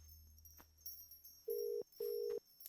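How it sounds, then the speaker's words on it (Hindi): Faint and muffled, a telephone line sounds as a call is placed: two short, evenly spaced steady tones follow light background rustle. "उसे फोन करो"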